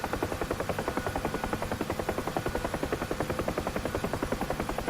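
A UH-1H Huey helicopter in the DCS flight simulator game sounds steady and loud, with rapid rhythmic rotor blade thumping over a constant turbine whine and no talking.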